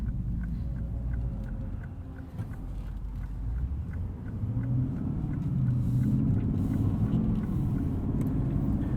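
A 2020 Lexus RC F engine hums steadily from inside the cabin, a low rumbling drone that grows slightly louder as it drives along the road.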